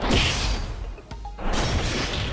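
An enemy smash attack lands in the Mabinogi video game: a sharp whooshing swing and crashing impact, then a short lull and another burst of crunching hit effects, loud and punchy with no speech.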